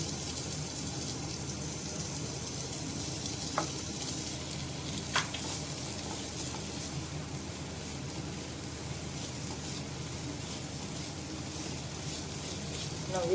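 Steady sizzle of onion frying with a ginger, garlic and green chili paste, a continuous crackling hiss at moderate level with a few faint clinks of stirring, no talk.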